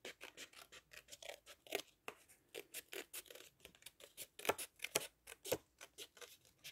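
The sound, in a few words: scissors cutting a paper strip for a card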